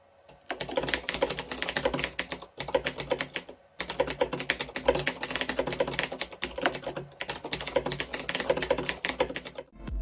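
Fast continuous typing on a Razer BlackWidow mechanical keyboard with Cherry MX Blue switches, crisp clicky keystrokes in rapid bursts broken by a few short pauses, close and clear with no talking.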